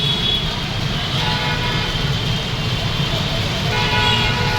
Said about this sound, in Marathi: हे बघा वरतून मेट्रो जाते